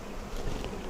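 Dense, continuous buzzing of many honeybees swarming around an open beehive during a brood inspection, close and steady throughout.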